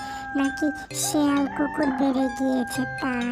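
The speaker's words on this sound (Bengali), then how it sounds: "সকাল সকাল এভাবে মোরগ মুরগি ডাকছে কেন?" Cartoon rooster and hens crowing and clucking in a bright, rapid burst of several calls, with a voice speaking over part of it.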